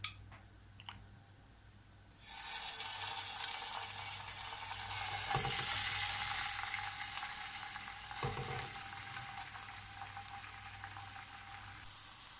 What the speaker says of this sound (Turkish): Üzerine zeytinyağı döküyorum. Yaz domateslerinden hazırladığım domates sosumu ekleyeceğim.